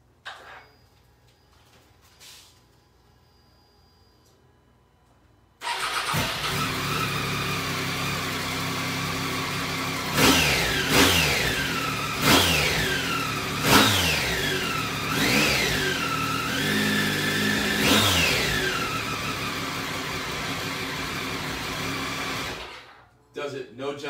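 Motorcycle engine, a Triumph Tiger 800 or Ducati Multistrada 1000 DS S, starts after a quiet stretch, idles, then revs sharply several times close to the microphone before cutting off.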